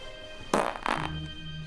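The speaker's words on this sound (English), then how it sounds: "Somebody farted." A fart in the movie The Dog Who Saved Halloween: two quick, fairly quiet, breathy bursts close together, followed by a low murmur.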